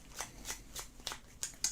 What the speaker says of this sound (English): Let me shuffle these up here.